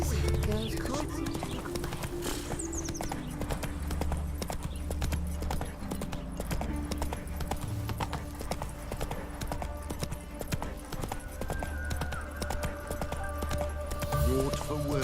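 Roach the horse galloping in The Witcher 3: Wild Hunt, steady rapid clip-clop hoofbeats that run through the whole stretch, mixed with game music and voices speaking.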